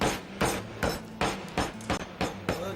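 A hammer pounds in a kitchen during cooking, striking about eight sharp, evenly spaced blows in a quick steady rhythm, close and fairly loud with no voices.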